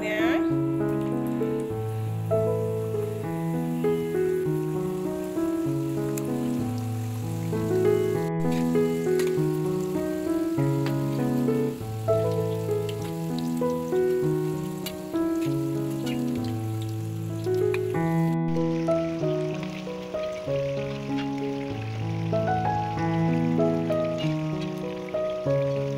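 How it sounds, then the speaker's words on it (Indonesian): Pastel pastries with crisp wrappers deep-frying in hot oil give off a continuous, even crackling sizzle that runs under prominent background music the whole time. "Goreng lagi"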